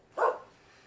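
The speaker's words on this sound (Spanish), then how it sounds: "Esos perros, con toda seguridad, ya están haciendo de las suyas." Dogs give a single short bark at a distance, brief and moderately loud against a quiet background.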